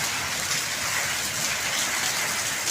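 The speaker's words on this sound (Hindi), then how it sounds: "बड़ी प्यारी बारिश हो गई है और हम अब रेन एंजॉय कर रहे हैं।" Steady rain falling, a continuous soft hiss with no gaps or distinct drops, moderately loud and even.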